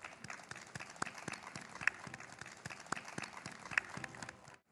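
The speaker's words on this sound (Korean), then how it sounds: "여러분 큰 박수로 청해 듣겠습니다." A crowd at an outdoor Buddhist ceremony marking the Gwaneum Order's 60th anniversary claps in welcome, a faint, distant patter of hands that trails off and stops at the end.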